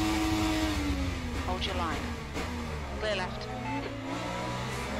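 Indycar engine at Long Beach in the rFactor 2 and Automobilista 2 racing games: a high engine whine rising in pitch through gear changes, steady and loud, with someone talking over it.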